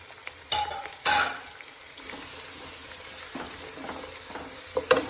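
Three to four sliced onions sweat and fry in a pan for a Kerala-style meat biriyani masala, a soft steady sizzle punctuated by a few loud, abrupt stirring scrapes near the start and end.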